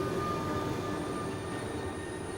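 A Paris metro train gives a steady, fairly faint rumble with faint high-pitched tonal whines, an even rolling drone with no pauses.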